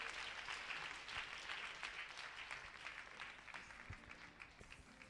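A church congregation at an evening French-language deliverance service claps in a dense, continuous wash of applause that sounds moderately distant and holds steady throughout.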